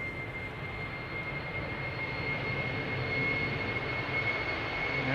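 A KLM Airbus A330-300 jet airliner at Schiphol Airport, a loud steady jet engine roar with a thin whine on top, holding constant and heard from a moderate distance.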